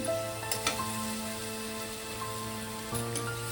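Ginger and garlic paste hitting hot oil with prawns for a Bengali prawn badshahi curry, a steady close sizzle with a few sharp clicks of a spoon against the pan, no voices.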